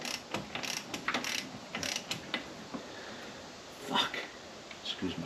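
On a 1937 Austin 7, a fan belt pulley is turned on its thread, giving irregular metallic clicks and ratcheting scrapes in short bursts. A voice talks intermittently over the quiet, close mechanical sounds.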